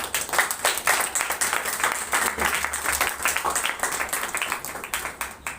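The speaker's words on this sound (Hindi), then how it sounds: "हम पिता पुत्र पवित्र आत्मा के लिए ताली बजाएं" Church congregation clapping for the Father, Son and Holy Spirit during a Hindi service, a lively fairly close applause with distinct individual claps pulsing in an uneven rhythm.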